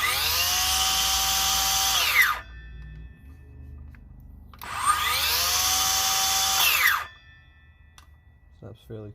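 A cordless power tool on a 2.0 battery whirs at high speed, then its brake winds it quickly down to a stop; the run-and-brake cycle happens twice, close up, with brief talk between.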